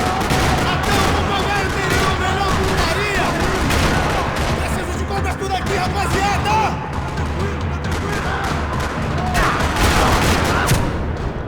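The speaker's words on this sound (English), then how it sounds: "Another parking lot rattling with gunfire." Sustained gunfire rattles through a parking lot in the video game Max Payne 3, dense overlapping bursts and single shots with booms and crashes that run without a break, mixed with shouting game voices throughout.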